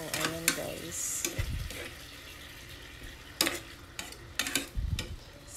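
A spatula breaks up canned sardines mixed with odong noodles in a pan, giving a string of close scraping knocks and clatters over a light sizzle, loosely spaced with brief pauses.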